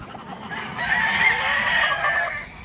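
Chickens and roosters at a poultry farm, with a single loud, close rooster crow rising over a low background of fowl.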